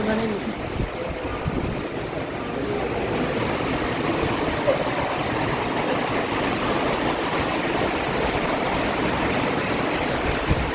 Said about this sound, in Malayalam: ഇവിടെ മഴ പെയ്ത് കഴിഞ്ഞാൽ മഴയും കാറ്റുമാണ്